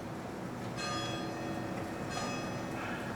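Large church bell, set ringing by an electric switch, sounds in two resonant strikes with a long metallic hum between them, heard from a distance at moderate volume with no talking.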